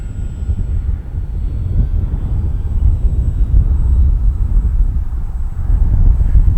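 An Arrows RC T-28 Trojan warbird model airplane, 1100 mm, flies steadily at a distance, its engine a continuous drone mixed with heavy wind rumble for several seconds, with no one talking.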